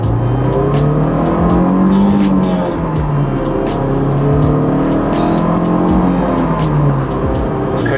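Honda S2000 convertible driving with a steady, loud engine drone and rising and falling revs, mixed with road and wind noise throughout, with no voices.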